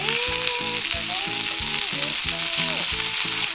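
Noodles and vegetables hiss and crackle loudly in a hot wok for Shanghai-style yakisoba, with a constant close sizzle and steady rhythmic tossing and scraping throughout.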